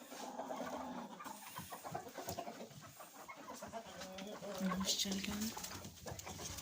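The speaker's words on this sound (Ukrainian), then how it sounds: "Буду виходити, кричать кури." Domestic hens in a coop clucking and squawking in a noisy, busy chorus, with a louder cackle near the end, under someone talking.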